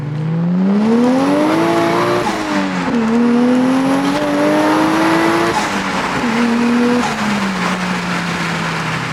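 A Nissan S15 with a 1JZ engine revs hard through the gears, its loud, close exhaust note climbing in pitch, dropping at each shift around three and seven seconds, then pulling again, alone without talk.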